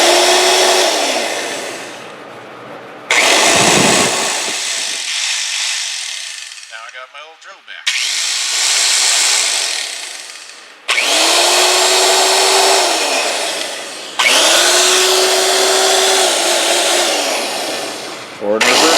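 An old Sears electric drill packed with grease whines loudly in several start-and-stop bursts, each run winding up to a rough, buzzing pitch before cutting out briefly.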